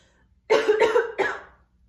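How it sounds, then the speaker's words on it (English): Three quick, close coughs in a row from one person with a cold, loud and sharp, then silence. "Excuse me, I'm gonna cough."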